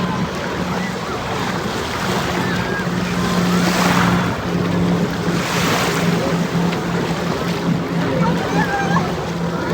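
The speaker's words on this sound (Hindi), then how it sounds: "नॉर्मली बीचेस पर क्या होता है, लहरें रहती हैं" Ocean surf at a beach in Qatar washes steadily, a constant rushing roar mixed with wind buffeting the microphone, with voices faintly underneath.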